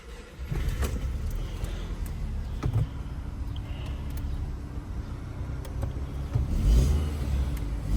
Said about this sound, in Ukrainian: Мотор працює добре.